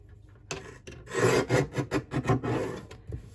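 Paper being cut down to 3.5 inches for a pocket page of a small 3x4 cinch-bound notebook, giving a close, steady rasping scrape in several pulsing strokes over about two seconds, with no talk.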